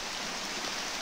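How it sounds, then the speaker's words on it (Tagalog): Steady rain falls on a mountain trail in the Sierra Madre at night, an even hiss of drops with no voices in this short moment. "Umuulan."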